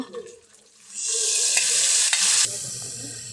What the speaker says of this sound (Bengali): এইবার আমরা মশলাটা ভালোভাবে ভেজে নেব